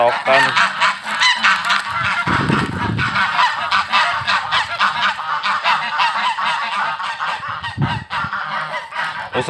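Geese and chickens on a farm in Kazakhstan: a flock of geese honks loudly and almost without pause, with overlapping nasal calls close by and no speech.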